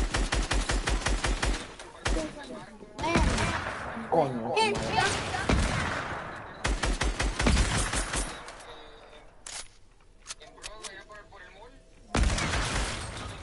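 Rapid bursts of automatic gunfire from a video game shooter, repeated clusters of sharp cracks separated by brief pauses, with a few spoken exclamations between volleys.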